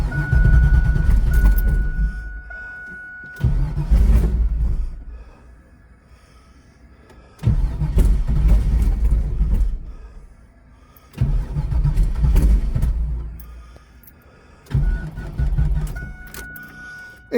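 A 1980 Trans Am with a drained battery cranking repeatedly without catching: four loud, even bursts of starter grinding separated by quiet pauses, close by and with no talking.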